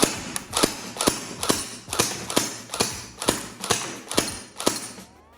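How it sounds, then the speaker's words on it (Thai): Cyma MP5 gel blaster fired in single shots, about a dozen sharp close snaps at a steady, roughly half-second rhythm, each with a short thudding tail, no talking. "ดึงนิดเดียวเราก็ยิง"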